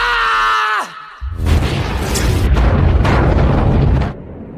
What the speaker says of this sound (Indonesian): langsung melemparkan sebuah bom hingga membuat Izumi dan Mabuchi terlempar